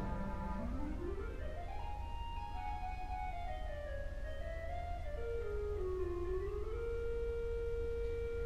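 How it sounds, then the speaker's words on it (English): Clarinet stop of the Wichita Wurlitzer theatre organ playing a slow solo melody of single reedy notes that rise, glide and settle on a long held tone, steady and alone. "Then we have the woodwind section. Well, things like the clarinet,"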